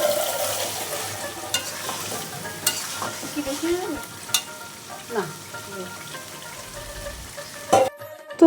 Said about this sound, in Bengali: আমি চিংড়ি মাছগুলো ভালো করে এখানে কষিয়ে নেই